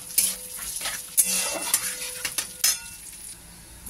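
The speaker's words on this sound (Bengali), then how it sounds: "চলো এর মধ্যে দেবো এলাচ, লবঙ্গ, দারচিনি আর তেজপাতা। এটা একটুখানি ভেজে নিই।" Whole cardamom, cloves, cinnamon and bay leaf frying in oil make a soft sizzle beneath repeated clinks and scrapes of a utensil against the pan, close and moderately quiet.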